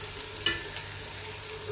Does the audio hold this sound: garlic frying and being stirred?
yes